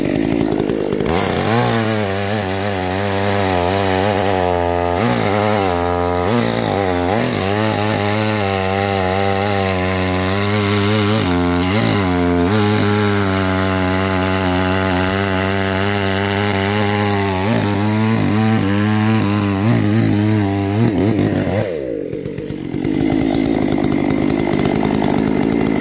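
Chainsaw cutting wood, loud and close, its engine roaring and pitching up and down under load for about twenty seconds before dropping to a rough idle.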